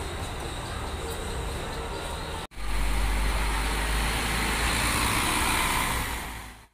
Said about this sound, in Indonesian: Ini masuk teman-teman bus Pandawa 87 dengan unitnya UHD, yaitu yang seri transformer ya.